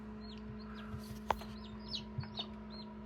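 Newly hatched chicks in an incubator give faint, high peeping calls, a few scattered chirps over a steady low hum, with one sharp knock partway through.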